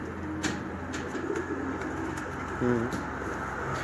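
Pigeons kept for a Lahore racing tournament coo softly and intermittently amid a steady outdoor background hum, with faint clicks and low, distant activity.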